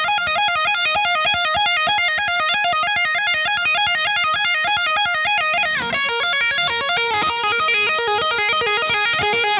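Electric guitar solo, played alone as a fast run of repeated, bright, stepping notes with a shift around the middle, sustained and loud throughout without any voice.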